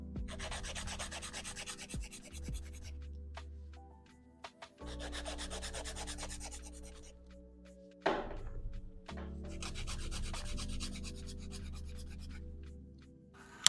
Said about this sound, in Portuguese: eu vou ver onde eu vou precisar lixar mais